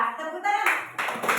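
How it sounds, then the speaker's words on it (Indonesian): Classroom applause for a student group breaks out in a brief, scattered burst of hand clapping that follows and overlaps children's and adults' voices. "Ya, tepuk tangan."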